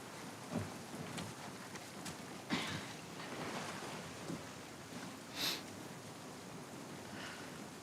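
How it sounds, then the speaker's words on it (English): Steady rain in the video game The Last of Us Part II hisses continuously, with a few louder splashes and soft thumps scattered through it. "Let's get out of the rain."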